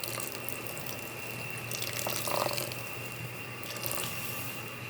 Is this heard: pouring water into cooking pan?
yes